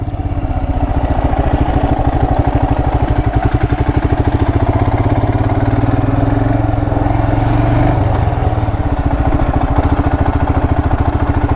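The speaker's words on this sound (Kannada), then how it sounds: "ರೋಡ್ ಕನ್ಸ್ಟ್ರಕ್ಷನ್ ವರ್ಕ್ ಸ್ಟಾರ್ಟ್ ಆಯ್ತು ನೋಡಿ." Heavy diesel machinery at a roadside construction site on a mountain road in Arunachal Pradesh, rumbling steadily at close range with a continuous low throb and clatter, without any talk.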